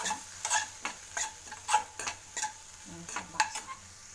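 A snack mixture with coriander leaves is sautéed in a pan, giving a faint frying sizzle broken by irregular scraping stir strokes, close and alone without talk.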